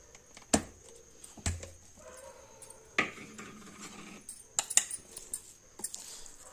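Garlic and chili pickle spices, including akbare chili and turmeric, being ground in the kitchen, heard as scattered sharp knocks and scrapes at an irregular, unhurried pace with quieter rubbing between them.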